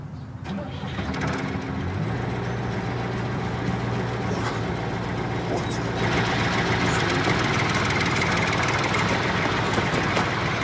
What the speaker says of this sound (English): Switch the engine off, there's a good girl.